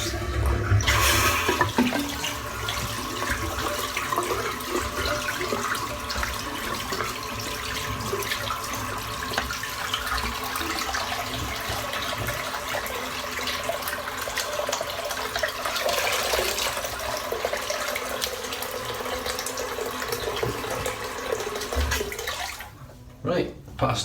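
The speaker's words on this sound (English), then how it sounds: "I'm just going to empty this water out and start again with some nice fresh hot water." Water drains from a sink, then fresh hot water runs from the tap and fills it during a wet shave, a steady rushing flow that stops near the end.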